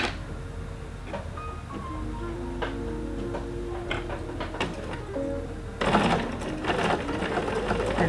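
A sewing machine stitches binding onto a quilt, running in steady rapid ticking bursts with brief pauses and tonal whirs, close and clear, growing louder and busier near the end.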